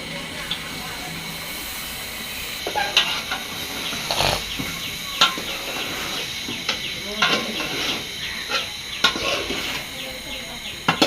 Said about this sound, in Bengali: সিসিঙ্গাটাকেও ভালো করে কষাই নিবে